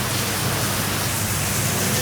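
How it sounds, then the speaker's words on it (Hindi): Heavy rain pouring steadily on the coast near Bali, a dense, even hiss of downpour filling the whole clip at constant loudness with no voices. "It's raining heavily."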